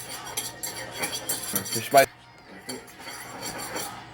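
A spoon clinks and scrapes against a bowl while stirring Maruchan chicken instant ramen, a burst of quick metallic taps before a short pause, then softer scraping, close and moderately loud with faint talk in the background.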